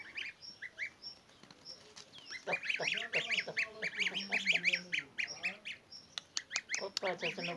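A flock of geese and ducks honks and quacks nearby in a busy, overlapping chorus, with a few sharp knocks near the end, in a village.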